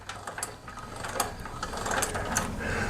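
Ratcheting clicks and a grinding mechanical whir come from a trailer jack being cranked by hand, a steady, close-up run of rapid clicks without speech.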